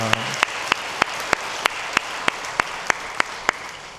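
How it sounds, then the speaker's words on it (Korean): Church congregation applauding the Zion choir after a worship song, a broad wash of clapping with sharp regular accents roughly every third of a second, fairly close and steady throughout. "우리 시온 찬양대 다시 한번 박수로 감사의 마음 전하겠습니다"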